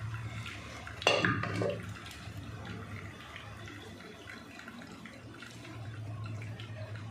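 Cooked dal for puranpoli is drained, with a quiet trickle and splash of liquid pouring out, a brief louder gush near the start, then faint steady dribbling.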